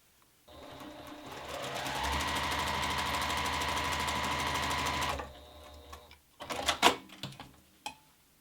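A domestic sewing machine stitches quilt pieces together in a fast, steady mechanical whir for about five seconds, then stops, followed by softer clicks and handling sounds of fabric and machine parts nearby.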